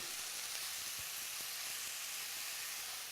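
Pre-cooked noodles broken into a hot pan sizzle and hiss steadily, close and even, with a few faint knocks underneath and no talking.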